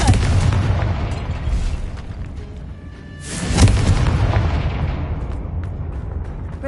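A Confringo blasting spell explodes in Hogwarts Legacy: loud rumbling booms open, ease off, then a sharp burst hits midway and trails into a long fading roar with debris-like crackle.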